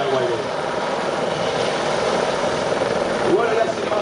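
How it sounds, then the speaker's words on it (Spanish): A formation of five helicopters flies over an airport at an air show, their steady rotor and engine roar loud and continuous throughout. "Aquí tenemos a la única patrulla en el mundo formada por 5 helicópteros."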